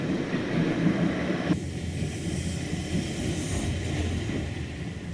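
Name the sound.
saddle tank steam locomotive running on rail track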